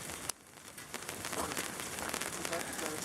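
Hail patters on a jeep during a roadside stop, a dense continuous rattle of small impacts with scattered sharper hits, moderately loud throughout.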